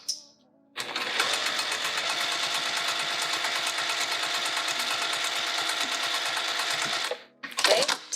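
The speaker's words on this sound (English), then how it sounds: "And now we're going to baste here." A sewing machine runs basting stitches on a pouch in one steady, fast, continuous run lasting several seconds, then stops with a short clatter at the end.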